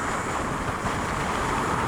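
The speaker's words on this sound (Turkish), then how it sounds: "Çok çok rüzgar var ya, çok rüzgar var. Karşıdan rüzgar çok." Strong headwind roars across the microphone while riding a Kanuni Seha 150 motorcycle, a dense, steady rush of wind noise filling the whole stretch with no speech.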